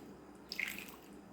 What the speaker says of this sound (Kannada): ಸ್ವಲ್ಪ ನೀರು ಹಾಕಿಕೊಳ್ತಾ ಇದ್ದೇನೆ